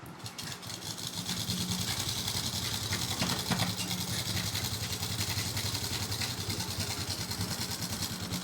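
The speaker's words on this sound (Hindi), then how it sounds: "ये लग गई हमारी बाजू की सिलाई" A sewing machine stitches a kurti sleeve in one steady, fast mechanical whir that runs unbroken at close range after a brief quieter start.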